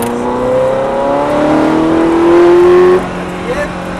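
A Ferrari F430 pulls hard through a corner exit at the Lédenon circuit, its engine note climbing steadily for about three seconds before easing off. The engine sounds loud and close, heard from inside the car.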